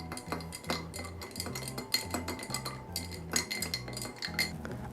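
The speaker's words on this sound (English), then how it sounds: "take your bar spoon, any spoon really," A bar spoon stirring a Monte Carlo cocktail of rye and a sugar cube in a glass, with rapid rhythmic metallic clinking and tinkling close by, alone without talk.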